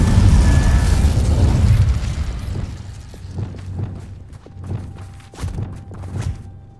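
Incendio fire spell cast in a Harry Potter video game: a heavy booming blast of fire for the first two seconds, dying away into a run of soft thumps and crackling pops.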